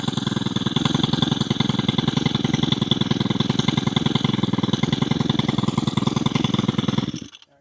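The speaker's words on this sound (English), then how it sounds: "But you just keep pulling that cord" Weed eater line trimmer that won't run, loud and close, with a steady rapid pulsing chug from the small engine for about seven seconds before it cuts off abruptly.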